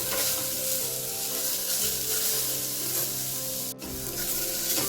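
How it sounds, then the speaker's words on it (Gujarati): Papaya stirred and frying in ghee for a halwa, giving a steady, dense sizzle close by with one sharp scrape or clink near the end, no voices. "આમાં આપણે ફેરવશું ઘીમાં જ."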